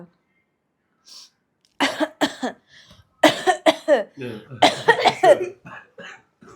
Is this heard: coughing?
yes